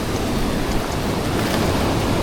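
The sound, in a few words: ocean waves while fishing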